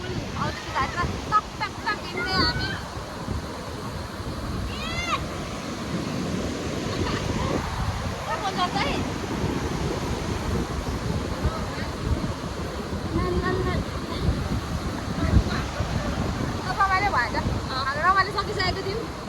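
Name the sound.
rain falling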